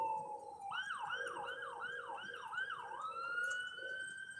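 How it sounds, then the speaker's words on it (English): Emergency vehicle siren on a street in Downey, California, with a rapid rising-and-falling yelp cycling several times before shifting to a steadier wail, moderately distant and with no talk. "I don't know if the sirens are coming here or not,"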